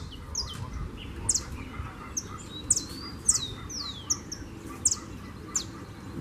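Double-collared seedeaters (coleiros) call from cages outdoors: a scatter of short, sharp chirps and whistles over about six seconds, some close and clear, others fainter, above a steady low background hum.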